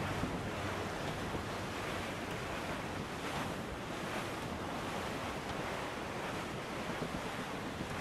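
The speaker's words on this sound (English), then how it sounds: "There's a strong wind now." Strong wind and ocean waves roll and rush together at sea in Assassin's Creed IV Black Flag, a dense, constant roar of surf and gusting wind with no voices.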